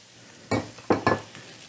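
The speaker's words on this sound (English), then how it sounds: "Keep adding flour gradually and then mix." All-purpose flour stirred into hot leftover oil in a pan for a roux: three short scraping, sizzling strokes close up, with a fainter fourth near the end, over a quiet background.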